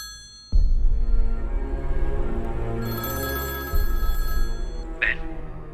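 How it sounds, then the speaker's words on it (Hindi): Phone ringing on a call to a brother, a loud electronic ringtone that holds steady for several seconds, restarts once and ends with a brief higher tone. "भवानी, अपने भाई को फोन लगाकर बात करो।"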